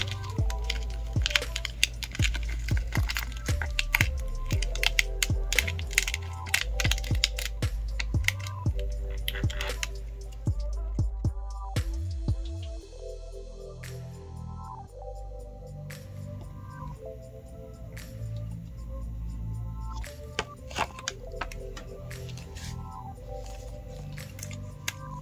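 A Cricut Maker cutting metallic heat transfer vinyl, heard as a steady run of rapid clicking and tapping from the machine with low mechanical rumble, continuous for most of the stretch with a quieter passage midway.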